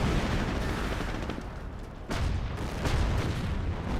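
Heavy artillery and battle noise from a Company of Heroes match with 25-pounder guns firing: a dense, rumbling wall of booms and blasts with a sharper report partway through, loud and continuous, with no speech.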